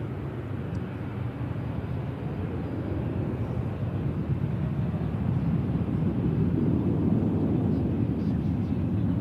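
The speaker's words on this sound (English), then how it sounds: "The Ryanair on the move." A Ryanair Boeing 737 airliner moving at an airport produces a steady, broad, distant rumbling roar that swells slightly toward the end, with no talking.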